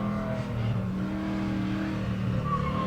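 A Chevrolet C10 pickup truck on an autocross course at Pittsburgh International Raceway, its engine droning and revving steadily at moderate distance with a faint rise toward the end.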